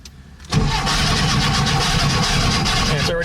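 A VW Type 3 engine on an electric fuel pump, with no chokes on its carburetors and a loose distributor, cranks briefly and then catches half a second in. It runs loudly and steadily with a slightly rough, stumbling idle.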